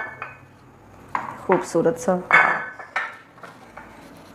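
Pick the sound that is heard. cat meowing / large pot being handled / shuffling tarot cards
large pot being handled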